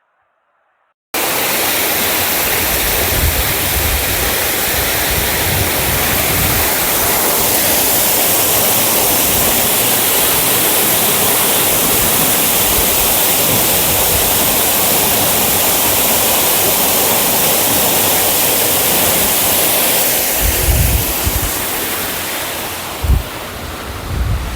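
Water from a water truck gushes into a farm well during a dry spell, a loud continuous rushing roar lasting over twenty seconds before it tapers off.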